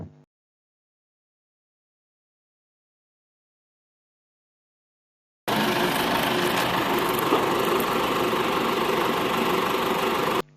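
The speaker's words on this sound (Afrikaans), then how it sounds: "Die masjiengraaf grawe diep gate." An excavator digging deep holes for foundations and pipes on a construction site: silence gives way to a loud, steady diesel engine drone that rumbles and rattles continuously to the end, with no talking.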